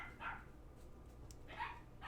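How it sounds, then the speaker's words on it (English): Dogs bark in the distance, three short faint yapping barks spaced irregularly over a quiet room background. "What are these dogs doing?"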